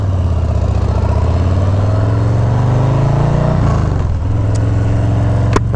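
A Low Rider motorcycle with a TBR exhaust, loud and close, holds a deep throaty idle, then rises in a rev and drops back to a steady rumble.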